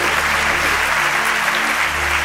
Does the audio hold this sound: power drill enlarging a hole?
no